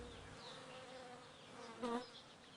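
Bees buzz softly in a faint, steady drone, with one nearer bee swelling louder briefly as it passes.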